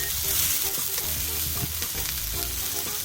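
Steady, loud sizzling and spitting of steak searing in a hot pan, continuous and close, with faint scraping underneath.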